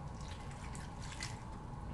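About half a cup of water is poured into a cooking pot over a flame while a Turkish pumpkin and sugar dessert is being made, giving a faint, steady, splashy rush with no speech.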